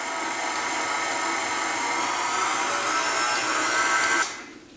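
Electric mixer beating snowball cookie dough with flour, a steady close whirring drone that holds evenly for about four seconds, then cuts off abruptly into quiet.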